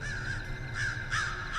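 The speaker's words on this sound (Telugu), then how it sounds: "ఆ శ్మశానం చుట్టూ ఉన్న చెట్లపై నిద్రిస్తున్న కాకులు ఒక్కసారిగా ఎగిరిపోయాయి" Crows caw as they fly off the trees around a cremation ground, several harsh repeated caws close by in quick succession, with no talking.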